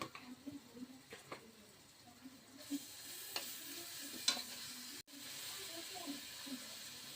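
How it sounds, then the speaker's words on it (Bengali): Onion and garlic fry in a pan with a quiet, continuous sizzle and hiss, broken by a few sharp scrapes and taps of stirring. "পেঁয়াজ ভাজা হয়েছে, একটু রসুন দেবো।"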